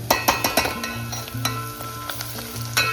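Ginger and garlic fry in a pan with a steady close sizzle. A utensil scrapes and clinks in a quick stirring rhythm, and a low hum runs underneath.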